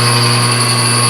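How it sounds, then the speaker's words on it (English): A 1 1/16 spade drill bores about 2 1/4 inches into aluminum, giving a loud, steady whine with sustained tonal ringing throughout, no voices over it. "I'm going to drill it about 2 1/4."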